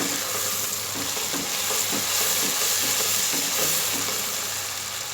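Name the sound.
frying and stirring ingredients for tori sabzi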